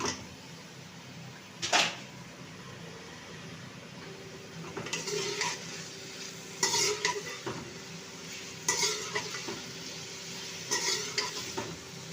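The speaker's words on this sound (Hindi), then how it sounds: "प्याज को हम हल्का ब्राउन होने तक फ्राई करेंगे" Onions fry in the oil left from frying okra, a soft continuous sizzle punctuated by several loud stirring scrapes and clinks of a spoon against the pan at irregular intervals.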